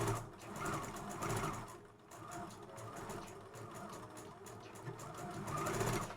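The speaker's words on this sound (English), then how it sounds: "I am going to stitch and then back stitch" A sewing machine stitches a seam and back stitches on a kid's dress, running in a continuous close mechanical whir with slight shifts in pace, soft and steady throughout.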